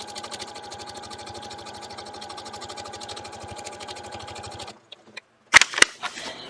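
A sewing machine stitching fabric at a slightly lengthened stitch setting, a steady close mechanical whir with rapid needle pulses for several seconds, then it stops and a few sharp clicks and handling knocks follow.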